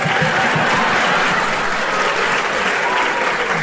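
Studio audience on a Brazilian TV show applauding loudly and steadily, a dense wash of clapping that holds at full strength throughout with no voices.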